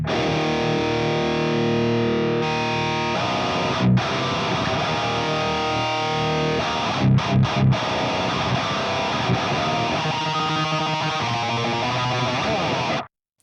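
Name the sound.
heavy guitar tone with aggressive parametric EQ on Fractal FM3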